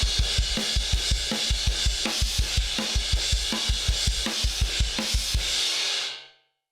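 A rock drum kit pounds out a steady driving beat, the bass drum kicking regular low thumps under a wash of crash cymbal, played alone for about six seconds before ringing off.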